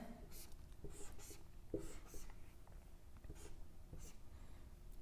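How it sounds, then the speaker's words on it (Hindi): Marker or chalk writing on a board during a chemistry lecture on reaction mechanisms, faint scratchy strokes and taps in short bursts, quiet and close amid room noise with a little speech. "मैं पहले लिखता हूं"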